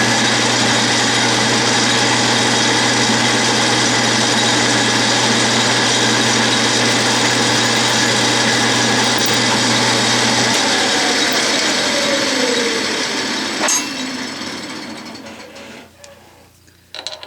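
A metal lathe turning a taper on bar stock for a bell center punch hums steadily with a high mechanical whine and faint scraping of a cutting tool, then winds down and falls quiet near the end.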